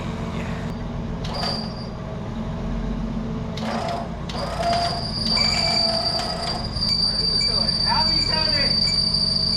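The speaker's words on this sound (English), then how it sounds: "Not sure why the winch was whining so much there" A motor-driven winch whines steadily while hoisting a freshly tacked rock crawler gin pole, a sustained high-pitched tone rising over a constant low mechanical rumble, with brief squeals and clanks scattered throughout.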